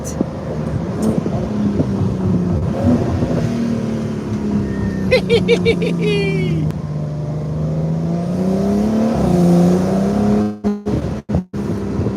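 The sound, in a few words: car engine revving with racing downshifts via paddle shifters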